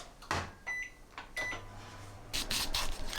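A microwave oven hums low while heating shimeji and enoki mushrooms wrapped in plastic, with short beeps and clunks of its door and buttons sounding sporadically nearby.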